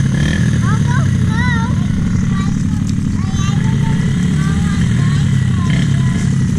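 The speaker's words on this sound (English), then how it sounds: "He'll go slow on his four-wheeler." A kids' four-wheeler quad engine drones loud and close without a break, a rough steady buzz, while people talk over it.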